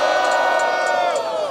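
A crowd at a freestyle battle roars and shouts for Gohan in a brief, loud, sustained cheer full of raised voices.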